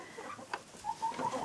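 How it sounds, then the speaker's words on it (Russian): A first-generation Grisbar hen gives a few soft, short clucks in quick succession, faint and close in a quiet henhouse. "Здесь у нас тоже сидит курица грисбар первого поколения"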